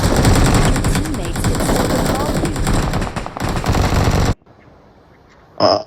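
Rapid, dense crackling bursts of firecrackers pop continuously for several seconds, loud and close, then cut off abruptly to quiet, with one brief noise near the end.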